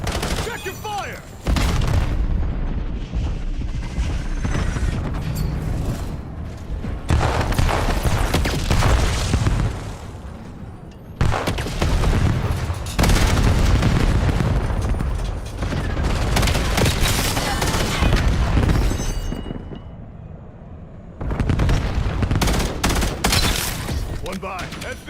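Dense gunfire and heavy explosions from the Syndicate video game, loud and continuous in long bursts broken by brief lulls, with voices in the mix.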